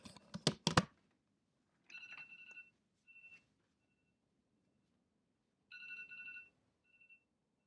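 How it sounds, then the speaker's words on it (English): A phone alarm sounding from across a room, with faint electronic beeping tones in short bursts separated by pauses, preceded by a few soft knocks and clicks. "An alarm went off on my phone that I threw across the room."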